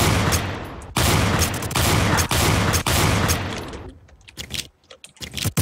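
Rapid bursts of gunfire in a Roblox first-person shooter game, loud clattering volleys with brief gaps, then sparser scattered shots toward the end, no speech.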